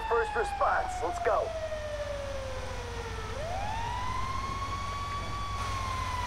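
A wailing fire engine siren in the video game GTA 5 sweeps down in pitch and then rises into a steady tone, with brief engine or speech-like noise at the start.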